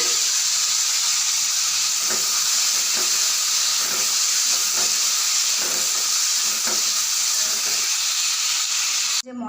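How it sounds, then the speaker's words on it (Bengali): Whole spices, onion, garlic, ginger and tomato fry in hot oil, giving a steady loud sizzle and hiss throughout, with occasional soft stirring knocks underneath, ending in a brief abrupt cut. "আর সঙ্গে দেখো পেঁয়াজ, রসুন, আদা, তারপর টমেটো হালকা ফ্রাই করে নেব।"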